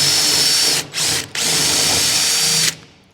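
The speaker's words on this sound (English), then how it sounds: "I'm going to drill into the center of the rivet" A power drill whines loudly up close, drilling out a rivet on an MGB, cutting out briefly twice before running steadily again and then stopping.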